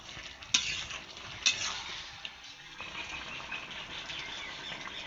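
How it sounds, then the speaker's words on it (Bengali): Stirring a mixed vegetable curry with ground cumin in a pan on a winter-day stove, with two clear scraping knocks of the spoon early on over a steady soft sizzle that continues throughout. "জিরে দিয়ে একটু নেড়ে চেড়ে দেবো।"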